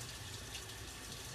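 Tap water runs steadily and close by while fresh dill is rinsed, making an even, continuous rush with no talk.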